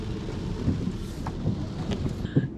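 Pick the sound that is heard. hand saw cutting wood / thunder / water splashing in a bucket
thunder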